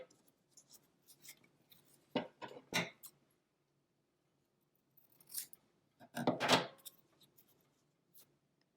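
Scissors trim paper for a Kente cloth art project, with two short bursts of crisp snipping close by and quiet gaps in between.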